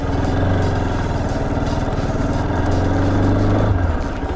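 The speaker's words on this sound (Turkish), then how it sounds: "Debrece hafif bırakırken de biraz daha gaz verin." A Bajaj Pulsar RS 200 motorcycle engine runs loud and close, a throbbing, steady exhaust note that rises slightly toward the end as the bike pulls away.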